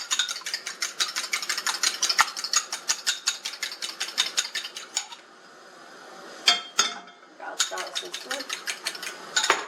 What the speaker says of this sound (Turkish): Ve çatallar güzelce karıştırıyorum.